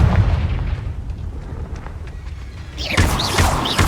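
A Confringo blasting spell explodes in Hogwarts Legacy with a deep, rumbling boom that carries on steadily, then a brighter crackling burst joins near the end.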